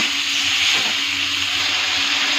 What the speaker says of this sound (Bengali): খুব ভালো করে 5 মিনিট ভাজা করে দেবো।